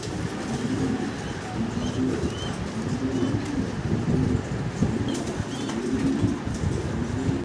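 Large Shoking pigeons coo in a steady, overlapping chorus of low, throaty rolling calls, close and continuous, with occasional wing flutters.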